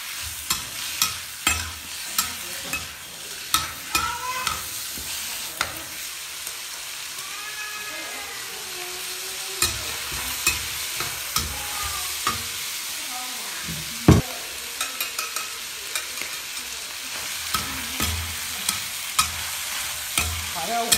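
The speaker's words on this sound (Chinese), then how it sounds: "把这五花肉顶着我这个油啊，炒一下" Pork belly stir-fries in hot oil in a wok with chili and Sichuan pepper, a steady sizzle punctuated by sharp rhythmic spatula scrapes and knocks against the wok, heard up close.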